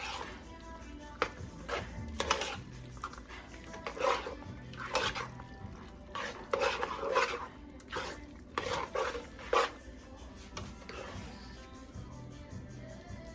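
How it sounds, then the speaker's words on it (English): A utensil stirs food in a pot for a Haitian home-cooked dinner. Irregular scraping and clinking strokes come in uneven bursts over a quiet background, fairly close and moderately loud. "we're gonna stir that all up"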